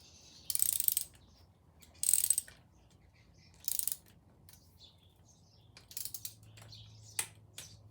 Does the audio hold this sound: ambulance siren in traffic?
no